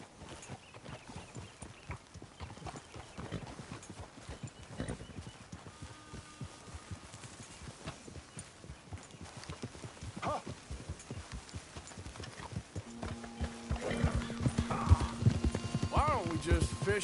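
Horse hooves clip-clop in a steady walking rhythm in Red Dead Redemption II, close and moderately loud throughout, with game voices and ambient sounds joining near the end.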